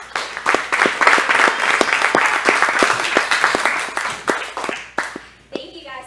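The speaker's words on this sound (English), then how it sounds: "So give yourselves a round of applause." Audience applause fills a theater after a locally written stage play, dense sustained clapping with sharp individual claps standing out, loud and close, tapering off near the end.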